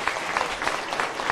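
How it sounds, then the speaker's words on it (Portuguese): A crowd gives a round of applause for the stallholders during the 64th anniversary celebration of Osasco's Central Municipal Market. The clapping is brisk and steady, many hands at a moderate distance, with no talking over it. "uma salva de palmas para os nossos permissionários"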